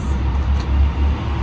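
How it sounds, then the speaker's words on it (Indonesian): Low rumbling engine drone of a school bus arriving on a rainy day, steady and fairly loud throughout the short stretch, with no voices. "Alhamdulillah bus sekolah datang ya."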